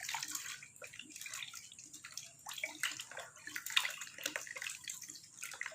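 Running water splashes and gurgles close by as aloe vera is rinsed clean under a tap, an uneven continuous flow with small bursts of spatter.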